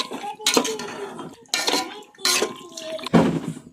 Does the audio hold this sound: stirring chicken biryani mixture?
yes